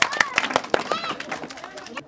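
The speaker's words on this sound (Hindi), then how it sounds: "सब लोग ताली मारिए एक बार" A group of people clapping at a casual game challenge, a few scattered sharp claps near the start amid lively overlapping voices and chatter, ending abruptly.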